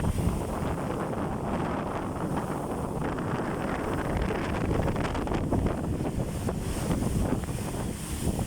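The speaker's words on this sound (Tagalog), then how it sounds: "Sobrang laki ng alon" Heavy wind buffets the microphone while large waves on the Indian Ocean surge and crash continuously around a boat, with water coming aboard.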